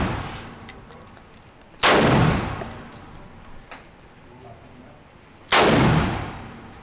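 Two loud, close gunshots ring out at an indoor gun range a few seconds apart, each with a sharp blast and a lingering echoing decay, with softer distant shots and clanks in between.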